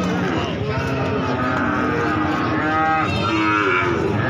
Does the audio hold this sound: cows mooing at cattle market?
yes